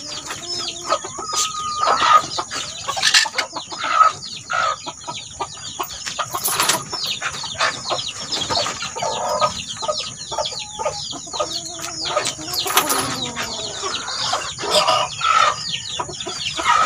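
Labuyo chickens cluck steadily near a farm coop, with a rooster crowing several times in between; close, lively barnyard sound with no talk.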